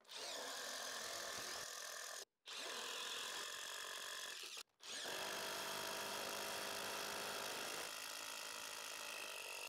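DeWalt DCF787 impact driver boring into wood with drill bits, a loud, dense hammering whir in three long bursts separated by brief pauses, the impact mode rattling harshly up close.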